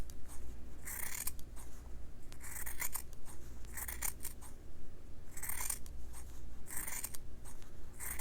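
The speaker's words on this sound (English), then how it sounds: "trim this fabric up, removing some of that batting." Scissors trim quilting fabric and batting in repeated bursts of crisp snipping and slicing, several cuts in quick clusters separated by brief pauses, close by with no talking.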